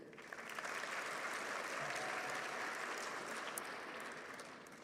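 Sustained applause fills a hall at a dental school hooding and pinning ceremony, a broad, even roar of many hands clapping that swells and then tapers slightly.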